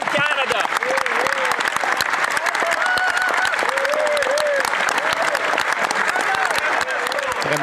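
Members in Canada's House of Commons applaud during a budget Question Period, loud sustained clapping filling the chamber with voices talking over and through it.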